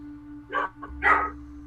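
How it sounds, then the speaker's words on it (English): Pet dogs at home give two or three sharp barks in quick succession, moderately close, over a constant low electrical hum. "my dogs are barking"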